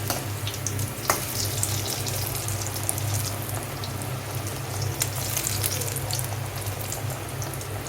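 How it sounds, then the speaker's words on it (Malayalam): Micro beans omelette bajji dipped in rice flour, gram flour and asafoetida batter deep-fry in hot oil, a close, continuous bubbling sizzle with scattered pops, and no one speaks. "അരിപ്പൊടി, കടലപ്പൊടി, കായപ്പൊടി മുക്കിയിട്ട് നമ്മൾ ഫ്രൈ ചെയ്തെടുക്കുകയാണ്"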